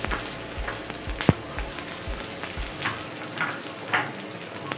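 Vegetables fry in oil with a continuous crackling sizzle close by, broken by small pops and clinks of a utensil against the pan.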